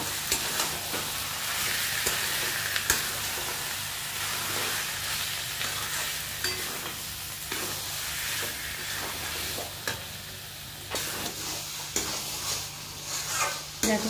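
Cumin powder frying in a pan with bottle gourd and prawns, a steady close sizzle with regular scraping stirs of a spoon across the pan and no talking.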